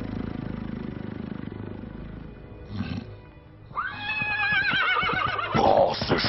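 A horse neighs in a film scene, a loud, close whinny with a quavering, descending call following a stretch of low rumbling background noise.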